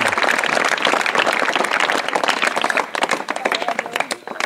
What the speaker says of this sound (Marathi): सर्वप्रथम जोरदार टाळ्या वाजवून आपण त्यांचं स्वागत करूया।